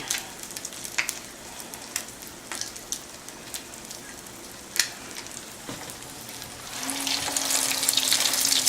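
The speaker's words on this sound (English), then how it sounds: "If I would have known I was only frying 2, I would have had a smaller pan." Crab cakes, just two of them, frying in a lot of oil in a pan, giving a faint, steady sizzle with scattered pops and crackles, heard alone without talk.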